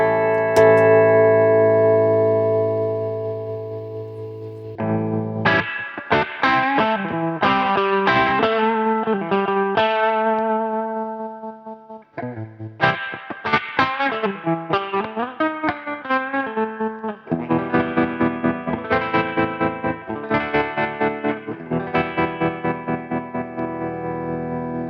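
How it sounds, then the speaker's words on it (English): Electric guitar played through a Dophix Galileo optical tremolo pedal, a held chord followed by picked phrases and strummed chords with a rhythmic throbbing volume wobble, clear and up close with no voices. "The depth is how much tremolo you get"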